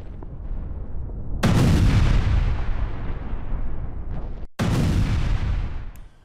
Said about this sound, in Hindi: डोनेस्क में यूक्रेनी सेना का हवाई हमला।